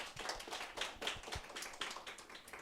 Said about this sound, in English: Would you please give another round of applause?